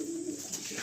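A pair of pigeons cooing softly nearby, a low steady murmur with no talk.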